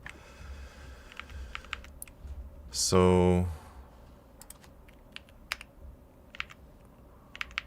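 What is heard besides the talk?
typing on a computer keyboard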